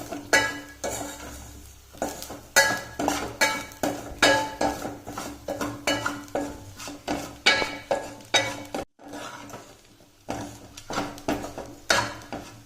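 A spatula repeatedly scrapes and clinks against a pan while masala is stirred and roasted on low heat for a Kerala chickpea curry, in a steady rhythm of loud, close strokes with a short pause.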